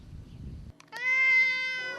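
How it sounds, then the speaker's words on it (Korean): A cat meows outdoors beside a hillside grave. After a moment of low background rustle and a brief near-silence, it gives a single clear, drawn-out meow that rises and holds. The meow is close and fairly loud. "갑자기 무덤가에서 들리는 심상치 않은 소리. 고양이다."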